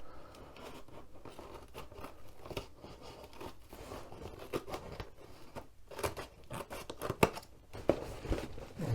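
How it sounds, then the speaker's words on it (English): Scissors snip and slice through packing tape on a taped box, with crinkly tearing and crunching noises in an irregular rhythm, close up and fairly quiet. "we'll pop this one open with the aid of a pair of scissors"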